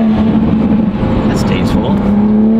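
A Toyota Supra fitted with a VRSF downpipe drones loudly and steadily nearby, its throaty exhaust tone holding even with a faint whistle above it and a few brief crackles.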